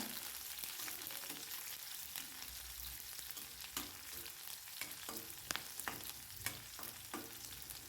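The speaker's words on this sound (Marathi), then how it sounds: "आपल्याला मिरच्या पण हिरव्या तेलावर सोडून द्यायच्यात आणि हे मिरच्या आणि लसूण छान तेलावर परतून घ्यायचे बघा" Green chillies and garlic sautéing in oil for an okra stir-fry, a steady close sizzle broken by sharp clicks and scrapes of stirring, with no talking.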